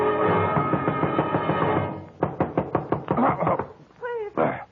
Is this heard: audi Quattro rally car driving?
no